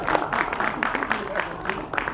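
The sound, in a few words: audience applause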